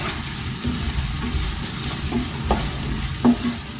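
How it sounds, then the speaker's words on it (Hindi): Spice masala with chopped green chilies and salt sizzles steadily in a pan for samosa chaat. Several distinct spatula scrapes and stirs ring out over the constant frying hiss, close and loud. "अब ये मसाला हमारा फ्राई हो गया।"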